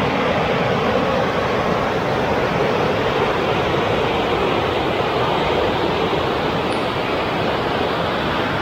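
River at Breitenbush Hot Springs in Oregon rushing steadily, a loud, continuous broadband roar of flowing water close by, with no voices.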